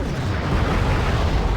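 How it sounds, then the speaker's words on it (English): Artillery shells burst in the Wargame strategy video game, a dense continuous rumble of heavy booming explosions, loud and close, with no voices over it. "A lot of that artillery is hitting in the back too along the road"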